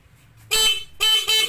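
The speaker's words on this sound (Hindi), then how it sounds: "एक साइड पे करेंगे तो एक हॉर्न चलेगा, दूसरी साइड पे ये हमारा हॉर्न चलेगा" Snail horn wired through a six-point switch, sounding three loud honks: a long blast, a pause, then two more blasts close together, near and alone.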